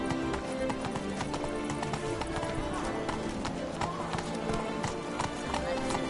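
Horse gallops in a PS4 video game, rapid rhythmic hoofbeats running continuously at close range and fairly loud, mixed with game ambience.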